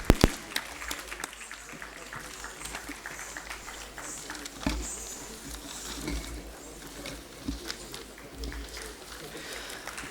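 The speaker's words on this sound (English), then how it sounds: "Please give a big round of applause." An audience at a cultural program in a civic centre claps after performers are named, with loose scattered applause and some sharper individual claps over a busy hall background.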